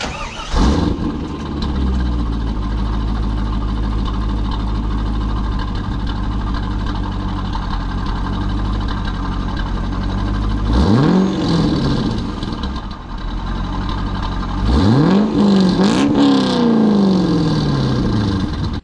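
Chevrolet Corvette C5 with a Corsa Extreme catback exhaust idling with a steady loud burble, then revved sharply twice, each rev rising and falling back to idle, no talk.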